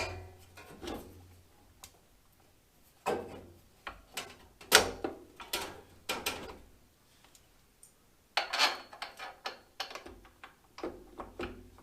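Metal front side panel of a Generac home standby generator being slid back into place during a battery change, heard as scattered close clanks, scrapes and knocks with pauses between, no talking.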